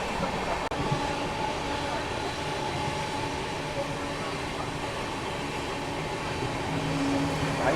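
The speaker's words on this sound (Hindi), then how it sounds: "भरवारी स्टेशन अपनी ट्रेन पहुंची है" A train at Bharwari station on the Kanpur–Prayagraj section at night gives a steady low rumble with faint wheel clatter, continuous and moderately loud throughout.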